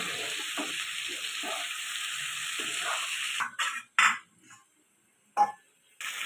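Marinated chicken coated in ginger-garlic paste, salt, turmeric and chili powder sizzles steadily in a hot pan, then breaks into short bursts of loud frying as it is stirred, with no voices.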